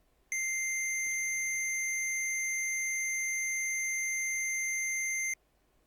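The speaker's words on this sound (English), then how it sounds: "I did a couple of blips and it's bleep, bleep, bleep" A single sustained chiptune synth beep from KORG Gadget with a pure, bright tone, holding steady for about five seconds before cutting off abruptly, loud against near silence.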